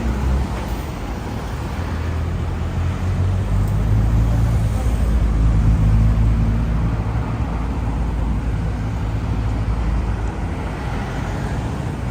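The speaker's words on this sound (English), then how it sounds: "These are the tourist buses around here." Tourist buses moving through Yokohama street traffic make a steady, loud low engine rumble and road roar that swells and fades slightly as vehicles pass close by, without any voices.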